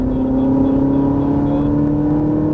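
A Ferrari GT3 racing car accelerating on a track, its engine a loud, steady, droning roar heard from inside the cabin, with the pitch holding high and constant throughout.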